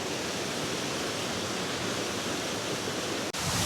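Steady, loud roar of the Ruskebe waterfall in Londiani, Kericho County, Kenya, heard close up as continuous broadband rushing water with wind, unbroken for the whole span and with no voices.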